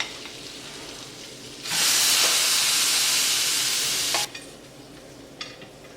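Green beans hit a hot pan with a knob of butter, the heat already switched off, bursting into a loud, steady sizzle that holds for a couple of seconds and then drops back to a quiet background.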